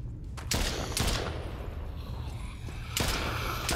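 Handgun shots in a zombie shooter video game, a few sharp separate cracks spaced about half a second to two seconds apart over a constant loud background of game noise.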